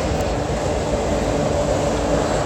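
Train rolling through an old Central of Georgia/Southern rail yard, a steady broad rumble of wheels and cars passing at moderate distance, continuous with no horn and no voices.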